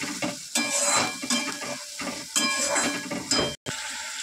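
Spice paste drops into hot oil over browned onions in a pan and sizzles loudly and steadily, with stirring scrapes coming in bursts close by.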